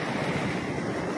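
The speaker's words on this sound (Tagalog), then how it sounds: "Yeah, lakas ng alon!" Strong ocean waves break and churn close by at a beach, a loud, continuous roaring wash mixed with wind buffeting the microphone.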